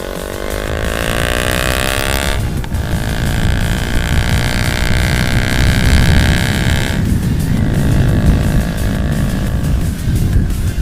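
A Kawasaki Ninja motorcycle with an aftermarket exhaust revs hard and loudly up close, its rising and falling engine tones sustained throughout with brief dips between throttle pulls.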